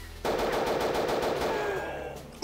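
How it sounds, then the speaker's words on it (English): A chain gun fires a sustained rapid automatic burst in the video game Castle Totenkopf, loud and continuous with echo, stopping just before the end. "Use the chain gun to take these guys down here."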